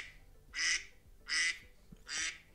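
Classic iPhone duck alarm ringtone playing three evenly spaced quacks at moderate volume, with no voices.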